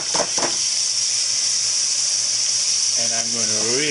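Vegetables and meat for sauerbraten sizzle and brown in oil in a pan, a steady loud hiss running throughout with a voice briefly heard near the end.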